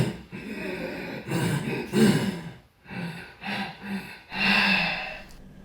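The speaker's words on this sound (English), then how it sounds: "So this forced breathing is called the dragon's breath and the tiger's breath." Forceful tai chi breathing known as dragon's breath and tiger's breath, a series of loud, close, rhythmic inhales and exhales, rasping and hissing in uneven bursts with short pauses between them, with no talking.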